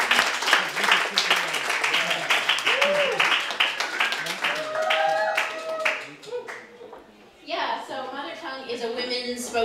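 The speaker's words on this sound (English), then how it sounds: "Let's give a big, big warm round of applause for Liz Prescott!" Audience at a spoken word event clapping and cheering mix with voices, fading briefly before voices and clapping pick up again near the end.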